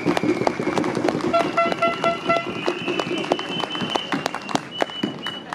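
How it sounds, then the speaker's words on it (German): Applause from a crowd at an outdoor Monday demonstration walk in Görlitz, a dense steady clatter of clapping mixed with crowd noise, a faint horn-like tone and scattered voices. "Und ich glaube, das ist ein Applaus wert."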